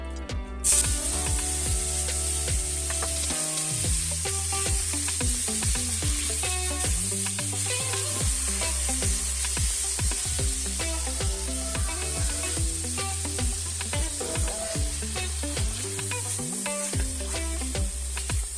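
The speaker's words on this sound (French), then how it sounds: "On va faire revenir notre viande à l'intérieur." Beef sautés in hot oil inside a Lidl multicooker, giving off a continuous sizzle with clicking, ratchet-like mechanical tones throughout and no talk.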